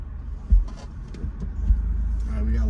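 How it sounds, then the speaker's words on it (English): Street traffic passes on Main Street in Bolivar, Tennessee, a low rumbling road noise with a couple of thumps, heard from a stopped vehicle as the drone builds toward the end. "We're gonna wait for traffic to pass us."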